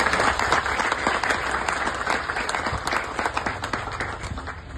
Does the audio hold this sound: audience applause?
yes